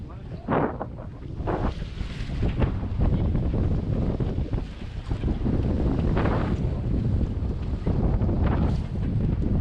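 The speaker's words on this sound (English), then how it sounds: "Wind was picking up, 22 knots." Strong wind of about 22 knots roars steadily across the microphone on a sailboat at sea, with rushing water and the wash of waves beneath, loud and continuous throughout.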